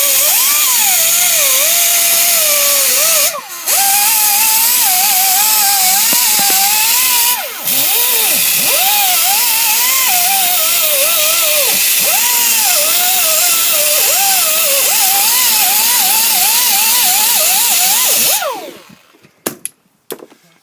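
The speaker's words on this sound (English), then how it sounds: "get a die grinder with a lovely little brush on the end" A die grinder fitted with a small wire brush whines loudly and close up while cleaning parts during a VW T5 Gen2 bearing change, its pitch wavering under load with two brief cut-outs before it winds down at the end.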